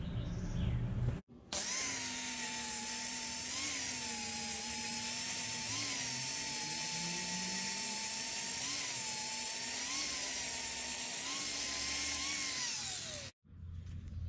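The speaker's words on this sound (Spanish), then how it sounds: "Ahora vamos a amolar." An angle grinder grinds a steel plate in a workshop, a loud sustained high-pitched whine with the tone wavering slightly as pressure changes. It runs almost continuously for about twelve seconds between brief pauses at start and end.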